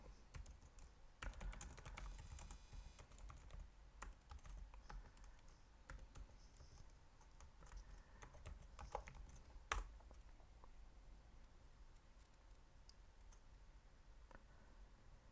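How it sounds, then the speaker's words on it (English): Typing on a computer keyboard while entering a terminal command on Linux, a quiet, steady run of soft key clicks over about fifteen seconds with one sharper tap near the end. "just type the command"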